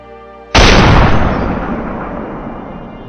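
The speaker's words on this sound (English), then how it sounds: "At a fairly long distance, when the wild boar moved to an open position, I immediately opened fire." A single loud gunshot fired at a wild boar from a fairly long distance, a sharp blast followed by a long rolling echo that slowly fades over several seconds, with no talking.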